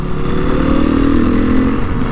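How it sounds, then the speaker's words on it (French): A motorcycle engine idles after being started, a close, loud, steady low rumble with a fast, even pulse and no revving or voices over it. "on a allumé la moto, on l'a fait tourner pour voir un peu"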